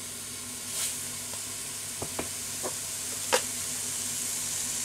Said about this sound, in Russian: Для начинки жарим на растительном масле лук, чили, чеснок.